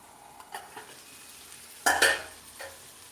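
Chicken frying in a pan is stirred with a utensil, giving a few scraping, sizzling strokes. Two sharp, loud clatters come near the end, with quieter stirring before them.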